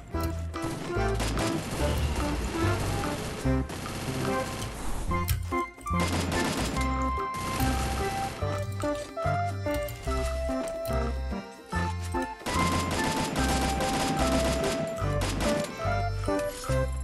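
Rapid bursts of gunfire from a gun skin in the Free Fire video game, repeated volleys with short gaps, loud and close over background game music and effects.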